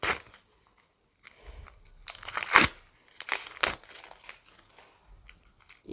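Plastic packaging crinkles in irregular bursts as a packet is handled and torn open, close and fairly quiet, with no talking.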